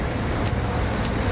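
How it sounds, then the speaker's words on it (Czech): Cars passing along a nearby road, a steady broadband roar of traffic with no pauses. "jezdí tady auta, tak nevím, jestli mě bude slyšet"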